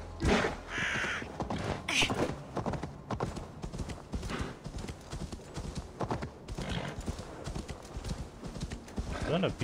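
Horse hooves clip-clopping in the video game Assassin's Creed Valhalla, a steady rapid gallop of hoofbeats with game sounds such as crow caws and a whinny, while someone talks over it.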